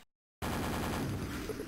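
Rapid gunfire in the video game Quake during a clan match, a dense continuous burst of shots following a brief moment of silence, close and steady with no talk.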